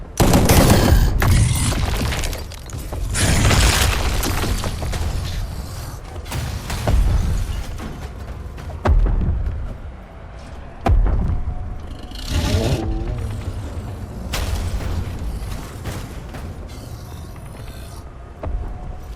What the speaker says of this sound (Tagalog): Saan yung militar na bumabaril?